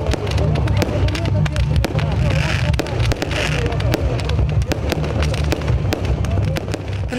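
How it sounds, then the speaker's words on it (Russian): A festival fireworks display at a food fair in Brest crackles and bangs in rapid, dense bursts over a deep continuous rumble, with many sharp pops layered closely together. "Кульминация праздника уже по доброй традиции стал красочный фейерверк"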